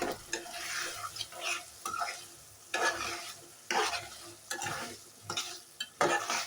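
Broad bean seeds and potato being stirred in a koi fish curry, bursts of spoon-scraping and stirring against the pot over a soft sizzle, loud and close.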